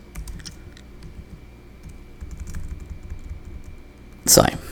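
Typing on a computer keyboard while entering program code, with scattered soft key clicks beneath someone talking, ending in a brief louder burst of keystrokes.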